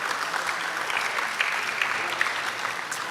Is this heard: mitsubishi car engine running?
no